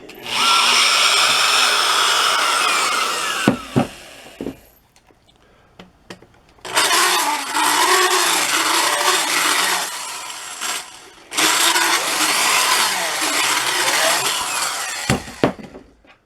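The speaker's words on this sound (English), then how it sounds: "That drill's about 40 plus years old. Still works great, but it makes a racket." A loud 40-year-old electric drill whirs in three long, harsh bursts into a hardwood log, separated by short pauses, with a few clicks and knocks between runs.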